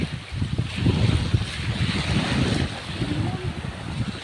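Sea waves wash onto the shore at Baybay in a steady, close broadband roar, with wind buffeting the microphone throughout and no voices.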